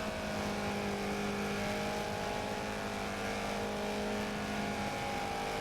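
Subaru BRZ race cars run at Suzuka GP during the TORA BRZ Challenge final round, giving a loud, unbroken engine drone with a steady pitch from start to finish and no voices.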